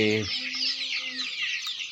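Desi native-breed chicks peep in a dense, continuous high chorus, opened by a short, loud cluck from an adult chicken close by.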